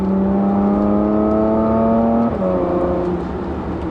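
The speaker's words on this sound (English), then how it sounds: "And that gear change, oh, I might have mentioned that a few times, but superb." Porsche Macan GTS engine heard from inside while driving, a loud steady droning hum that rises, then drops sharply at a quick gear change and settles into a lower, slightly quieter tone.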